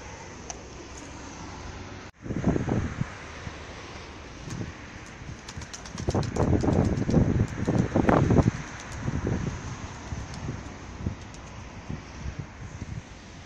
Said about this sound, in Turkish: Çok rüzgar var Çeto'ya.